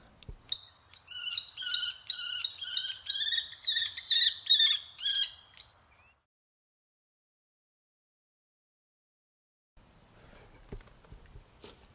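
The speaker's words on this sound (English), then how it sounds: "Here's the kestrel." A kestrel calls in a fast run of sharp, repeated shrill notes, loud and close, lasting about five seconds before falling silent; faint outdoor ambience returns near the end.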